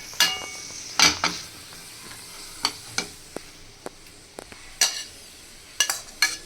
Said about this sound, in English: Now you can add the cashew nut and raisins into the ghee